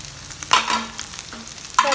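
Onions, corn and capsicum sauté in a pan with a close sizzle, broken by two short bursts of stirring and scraping.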